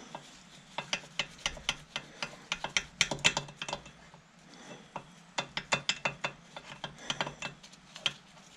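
Gears slid back and forth in the PTO gearbox of a David Brown 996 tractor, producing rapid bursts of metallic clicking and ratcheting in uneven runs, close and fairly loud, with no talking.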